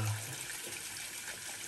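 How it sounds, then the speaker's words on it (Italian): Hot water runs from a bathroom tap as a brush and shaving soap are prepared for a wet shave, a steady, fairly quiet rushing stream with no talking. "io faccio scorrere un po' l'acqua e metto un goccio d'acqua, un goccio d'acqua dentro, calda"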